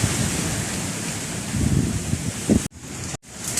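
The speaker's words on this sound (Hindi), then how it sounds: "बहुत ही तेज अंधेरी आ रही है" A strong windstorm roars outdoors before rain, with a constant rough gusting rumble buffeting the microphone. It cuts out briefly twice near the end.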